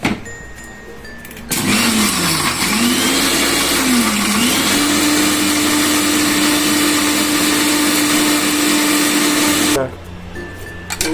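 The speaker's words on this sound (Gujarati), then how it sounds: "તો આપણે પીસી લઈશું. આ આપણો થશે લાલ મરચાંની ચટણી." A mixer grinder runs close and loud, grinding red chilli chutney with water and salt. It whirs steadily for about eight seconds with a rising and dipping pitch before it cuts off.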